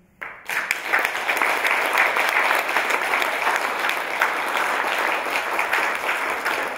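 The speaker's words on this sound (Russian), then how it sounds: "вы сами себе и аплодируйте за это" Audience applause at a seminar in Astana, a dense, steady burst of many hands clapping that starts abruptly and stays loud and even throughout.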